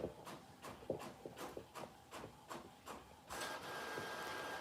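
An Epson 7720 sublimation printer runs quietly, its print head sweeping back and forth in a regular rhythm of soft passes before settling into a steady whir.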